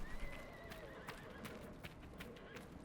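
Horses from Dragon Age: Inquisition give a few whinnies and snorts over clip-clopping hooves, fairly faint and steady throughout, with a bright tonal line running beneath.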